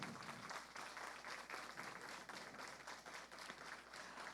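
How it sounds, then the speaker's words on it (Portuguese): An audience at an event on the Amazon and the climate emergency applauds the organising team, with steady, dense, fairly faint clapping from many hands that carries on throughout. "Uma salva de palmas para a equipe."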